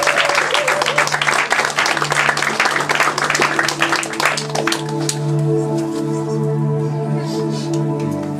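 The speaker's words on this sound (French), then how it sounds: "Nous pouvons acclamer pour le frère." A church congregation applauds newly baptised members: loud, dense clapping for about five seconds that then gives way to sustained organ-like tones.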